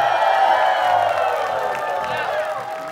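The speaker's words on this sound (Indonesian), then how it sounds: "Boleh semuanya sorakin Ana." A studio audience at an Indonesian dating game show cheers for a contestant named Ana, a loud sustained crowd roar of whoops and shouts mixed with clapping.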